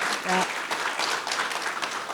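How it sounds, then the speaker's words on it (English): A conference audience at an energy industry event breaks into applause, steady and fairly close clapping throughout, with a short tonal blip early on. "please give her a big round of applause for being here"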